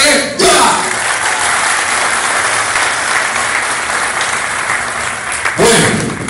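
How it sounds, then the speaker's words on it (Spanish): Studio audience bursts into loud, enthusiastic applause right on cue, dense steady clapping that holds for several seconds before cutting off abruptly. "ustedes van a aplaudir apoteósicamente"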